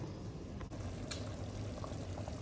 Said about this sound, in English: So it's boiling over.